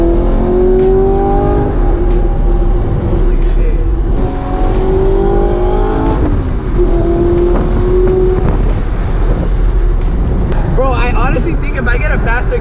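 Manual Audi R8 V8 driven hard, its loud exhaust climbing and falling through rising revs and downshifts, up close and constant, with someone talking over parts of it.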